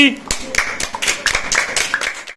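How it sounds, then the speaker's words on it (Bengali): Quick rhythmic hand clapping of a small group of children in a spoken English lesson, about a dozen sharp claps in steady succession, close and loud, with voices chanting along. "হাততালি"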